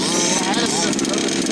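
A 1:6 scale carbon rally RC car engine buzzes at high revs in a steady, loud drone while a person talks over it.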